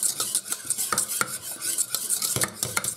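Spoon scraping and clinking against a pot while a thickening sauce for beef moussaka or lasagna is stirred, steady close rhythmic strokes with repeated sharp metallic taps, no voices.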